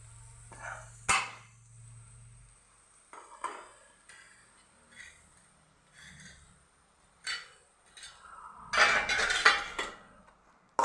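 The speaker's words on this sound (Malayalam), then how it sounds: "ഇനി അത് എടുത്ത് വെച്ച് നമുക്ക് ഒരു പാത്രത്തിലേക്ക് ഇടാം" Cooked sprouted green gram is spooned from a pan into a vessel. Intermittent metal clinks and scrapes sound close by, with a louder clattering burst near the end. No one speaks.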